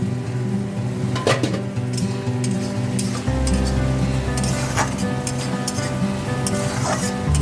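Puthi fish curry sizzles and fries in a pan, a steady hiss with occasional clinks of a spatula against the pan and a deeper crackle joining partway through, without any talking.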